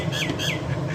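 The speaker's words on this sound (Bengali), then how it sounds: "পাখির ডাক শোনো" An outdoor bird gives two short, harsh squawking calls close together over a steady low background hum, fairly near and clear.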